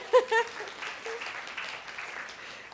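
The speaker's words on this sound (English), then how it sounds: "You can clap, that's fine." A conference audience at a women's empowerment event gives fairly faint, distant applause, a light wash of clapping that follows a brief voice at the start.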